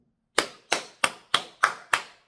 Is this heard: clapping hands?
yes